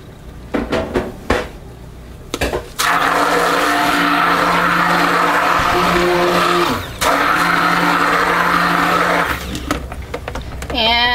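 A stick blender whirs steadily through a coconut milk soap batter for a facial soap scented with rosemary, peppermint and tea tree oils, running loud and continuous for several seconds with a brief dip, after a few clattering knocks.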